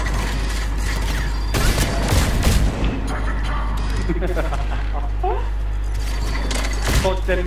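Missile explosions in Mass Effect 3 multiplayer, loud booming blasts and mechanical clatter layered over constant battle noise, with players talking throughout.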